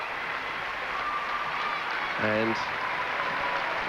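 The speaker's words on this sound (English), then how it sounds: "the crowd giving generous applause to Melbourne as they warm down" A crowd at a netball grand final applauds Melbourne as the players warm down, making a steady, broad wash of clapping in a large arena. A commentator's voice sits briefly over it.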